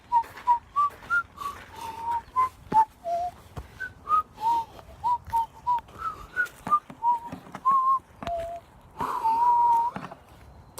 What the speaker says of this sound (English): I wasn't whistling the wheels on the bus go round and round